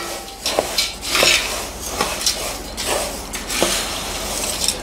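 Spices being mixed by hand in a metal bowl for a homemade Tamil mixture snack, with a string of light clinks and scrapes of utensils against the metal at irregular intervals, close by and moderately loud.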